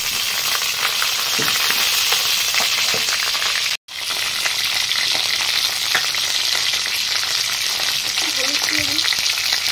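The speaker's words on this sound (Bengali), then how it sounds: "এগুলো এখন আলুগুলো আমি ছেড়ে দেবো এর মধ্যে।" Whole small potatoes fry in hot oil in a pan beside pieces of chicken, a loud continuous sizzle with a brief cut partway through and a few soft clinks.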